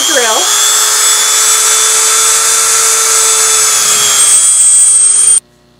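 A small rotary drill whines steadily at high pitch for about five seconds while drilling a hole in resin, loud and close, then cuts off abruptly.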